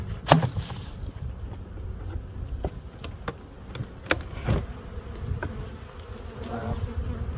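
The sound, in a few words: bees in a beehive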